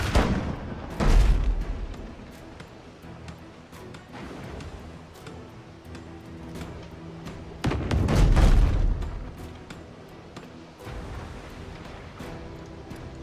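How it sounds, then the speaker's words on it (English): Ship cannons loosing chain shot in the naval combat game Abandon Ship, two heavy booming volleys roughly seven seconds apart, with a low rumble and clatter carrying on between them. "Keep firing your chain shot until the enemy mass section is damaged into red."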